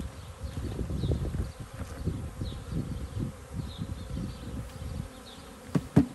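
A swarm of honeybees hums and buzzes steadily in a shared garden, close and continuous under light wind noise, with a few sharp knocks near the end.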